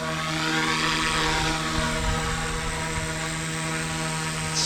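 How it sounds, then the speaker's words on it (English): A stock Blade 150S radio-controlled helicopter flies in strong wind, its small electric motor and rotor putting out a steady high-pitched whine with a constant buzzing tone, loud and close. Nothing else is heard. "The Blade 150S, it's all stock. I love this helicopter."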